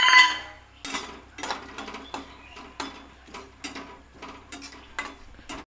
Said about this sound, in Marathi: त्याच कढईमध्ये खोबऱ्याचे काप पण भाजून घेऊया